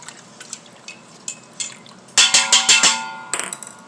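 Apple cider vinegar being stirred in an Instant Pot, a series of light taps and clinks of a utensil against the inner pot, sparse at first, then a quick cluster of sharper knocks, close and alone.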